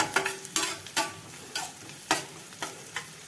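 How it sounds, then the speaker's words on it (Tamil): Onions sautéing in a pan for a simple mushroom pepper fry, with soft sizzling under repeated stirring scrapes that come in irregular bursts about every half second, close and fairly quiet. "வெங்காயம் வதங்கட்டும்."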